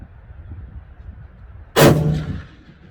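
A single .270 Winchester rifle shot from a Savage rifle at an outdoor range cracks out sharply and loudly after a quiet moment, its boom decaying over about a second.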